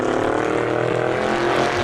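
A 1966 Ford Mustang Fastback in the Assetto Corsa racing game, its engine droning loud and steady with a rich, buzzy, constant tone throughout and no talk.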